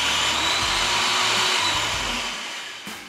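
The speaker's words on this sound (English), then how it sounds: "Then we'll push the foot bulb to start the machine rotating." A PTC-400 tube cutter spins steadily with a loud, continuous whirring hum and a faint rhythmic low thumping, close by, easing off slightly near the end.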